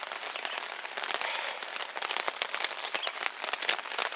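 Steady rain pattering on a tent or tarp at a lakeside campsite in Algonquin Park in May, a dense, continuous crackle of drops alone, fairly close, with no talk.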